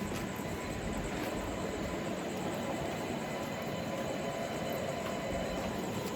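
A moving Mumbai slow local train rumbles steadily and loudly close by, with a continuous rolling roar and faint wheel noise, no voices.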